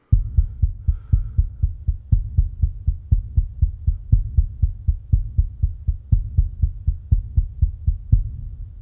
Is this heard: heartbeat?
yes